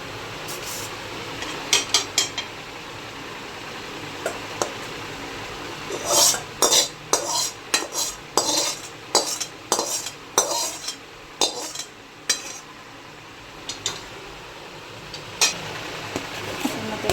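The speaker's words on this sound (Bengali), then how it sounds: "তালটাকে কড়ার মধ্যে দিয়ে নাড়বো" Palm fruit pulp and milk are stirred in a metal kadai, a spoon scraping and clinking against the pan in a rapid run of strokes after a few scattered taps, close and fairly loud, with no talking.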